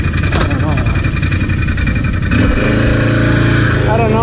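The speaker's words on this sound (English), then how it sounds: "these guys are just hitting the rev limiters." Several ATV engines rev hard and bounce off the rev limiter outdoors, a loud continuous buzzing drone with rising and falling harmonic sweeps, mixed with people talking nearby.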